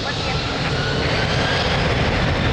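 Airliner at Lisbon Airport roaring loudly on its takeoff run, a dense, steady broadband engine roar with no break through the whole moment.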